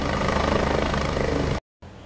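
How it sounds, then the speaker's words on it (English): A helicopter comes in to land at Richards Bay harbour, its rotor and engine a loud, close, pulsing roar that cuts off abruptly and resumes more faintly after a brief gap. "That's the helicopter landing."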